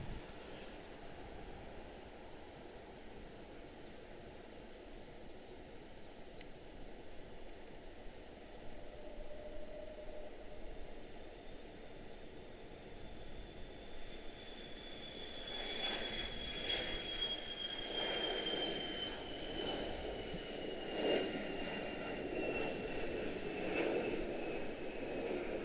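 An airliner on its takeoff roll from runway 19 Center at Washington Dulles airport, a steady distant engine roar that swells and grows louder over the last third, with a rising whine above it and no talk.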